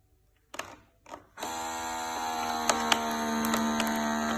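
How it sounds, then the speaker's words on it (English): A UTVS-006 vacuum sealer running its vacuum-and-seal cycle: a few button clicks, then a pump motor switches on and hums steadily and loudly with a couple of sharp clicks. "Now we try vacuum and seal."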